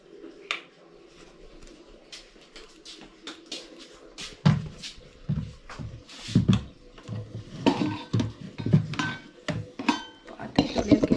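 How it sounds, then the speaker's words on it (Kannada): Steel pots, plates and utensils being washed and stacked in a home kitchen: irregular clanks, clatters and scrapes, sparse at first and then growing dense and loud, close by. "ಪಾತ್ರೆ ತೊಳೆಯೋ ಕೆಲಸ ಮುಗಿಸ್ಬಿಟ್ಟೆ."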